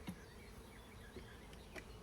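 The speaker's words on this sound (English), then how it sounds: "looking bunch of bees" Honey bees in a swarm trap give off a faint, steady close buzz, with a few individual bees droning louder as they pass near.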